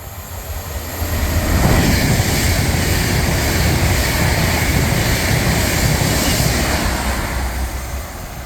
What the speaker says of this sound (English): passing through now is an Advanced West Coast Class 390 running from London Euston to Liverpool Lime Street